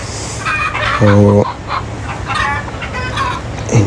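Roosters and hens in a backyard poultry setup cluck and call repeatedly, with a loud close squawk in the middle and softer bird calls around it, alongside a brief spoken word.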